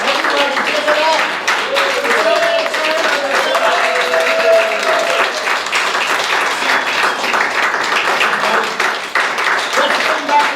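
Sustained, dense applause from a magic show audience fills the room at close range, a steady wash of clapping with voices speaking over it.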